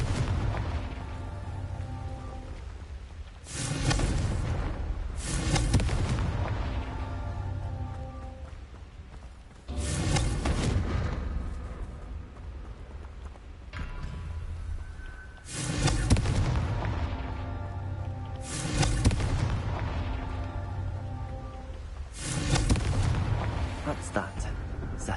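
Several Confringo blasting-spell explosions in Hogwarts Legacy burst out as loud, deep booms at uneven intervals, each decaying into a rumbling tail, with someone talking now and then between them.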